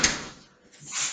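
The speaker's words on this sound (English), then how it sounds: "Shut the oven door." An oven door in a home kitchen is shut with a brief, soft thud and clatter, followed by a faint rustle.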